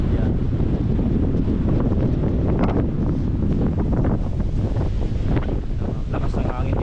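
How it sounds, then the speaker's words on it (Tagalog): Strong wind buffets the microphone on the deck of a cargo ship at sea, a loud, constant roar with gusty rumble and faint water wash, steady throughout. "Lakas ng hangin dito."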